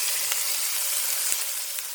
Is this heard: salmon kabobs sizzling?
yes